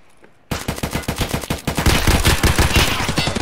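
Automatic gunfire in the video game Escape from Tarkov Arena: after a brief quiet start, rapid loud bursts of shots rattle on continuously for about three seconds, close and dense.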